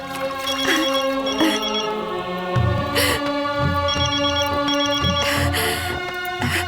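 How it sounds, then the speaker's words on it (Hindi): A telephone rings in repeated electronic bursts, loud and close, with background music tones running underneath throughout. "लो, आ गया तुम्हारे देवरों का फोन"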